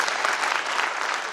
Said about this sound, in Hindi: बजाओ ताली जोर से।